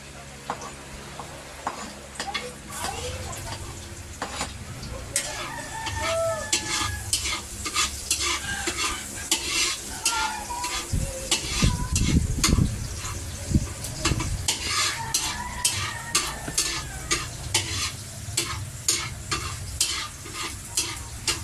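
Onion and garlic sauté in oil in a pan with a busy, crackling sizzle and repeated spoon scrapes and stirs, loudest around the middle and steady to the end, with no talk.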